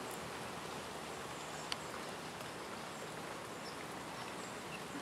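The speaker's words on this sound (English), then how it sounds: "It's raining a little harder now." Rain falling outdoors at a house during Hurricane Sandy: a faint, steady hiss of drops with one brief sharp tap partway through.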